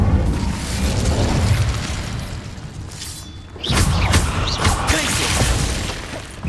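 Hogwarts Legacy Incendio fire spell in a cave: a loud, roaring blast rumbles for a few seconds, dips briefly, then a second crackling surge of fiery noise erupts and sustains, with no talk.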